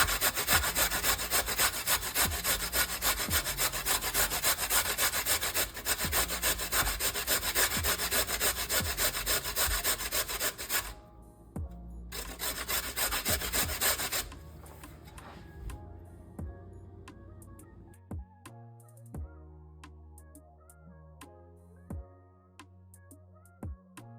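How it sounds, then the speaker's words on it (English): Carrots rasped rapidly against a grater for carrot chapati, a dense rhythmic scraping that pauses briefly, then gives way to scattered clicks and knocks. "So I'll begin by grating my carrots."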